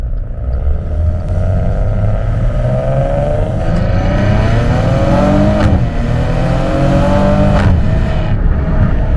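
Maserati Ghibli with a Ferrari-built V6 revving and accelerating from inside the car, loud engine tone climbing through gears with clear rises and brief drops at shifts, continuous and close.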